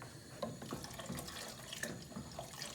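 Water from a tap runs into a pot of Puerto Rican pork chop gravy, a faint, steady splashing trickle throughout, with no voices.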